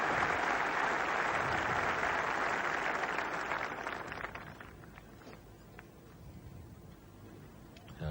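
Golf spectators at the 1977 Open Championship break into a loud, dense round of applause that holds steady for about four seconds, then thins and fades to scattered claps.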